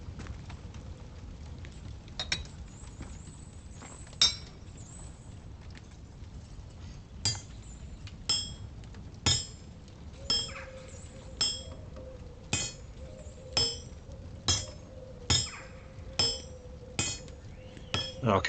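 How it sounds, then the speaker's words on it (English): Metal being hammered in a video game, a series of sharp metallic clinks that start sparse and settle into a steady rhythm of roughly one strike per second over a soft background. "this is taking a lot of hammering."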